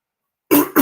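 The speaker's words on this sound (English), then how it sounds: "Sorry, excuse me, I'm just clearing my throat." Someone clearing their throat: after a short silence, two quick, close, rough bursts, the second slightly shorter than the first.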